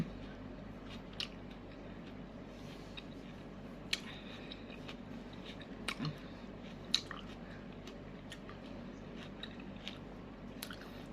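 A tomato being bitten into and chewed, soft wet squishes and small crunches close to the ear, scattered irregularly over a quiet background with no talking.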